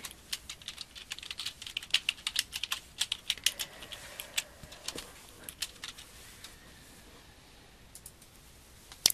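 Steady typing on a computer keyboard while entering hazmat shipment details, with dense bursts of key clicks that thin out toward the end, close and fairly quiet, with no talking.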